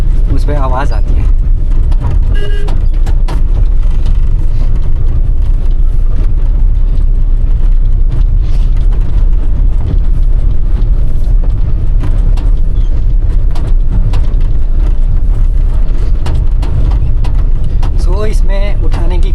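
A Bolero pickup truck drives along narrow roads with a loud, constant engine drone and rumble, its load bed rattling throughout, with a few brief voice-like bursts near the start and end.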